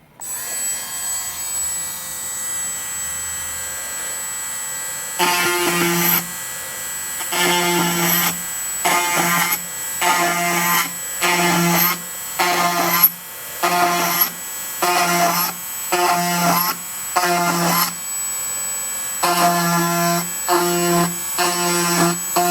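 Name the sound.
drilling holes in a glider part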